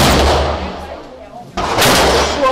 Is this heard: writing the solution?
no